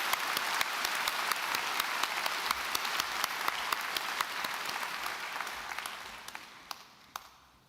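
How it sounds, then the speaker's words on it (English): Applause at a university graduation ceremony, a broad crowd clapping with sharp individual claps popping out from the wash, holding steady and then thinning and fading toward the end. "We'll stop and give a round of applause."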